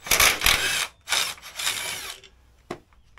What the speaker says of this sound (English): I've actually got an impact wrench I'm going to start with the footrest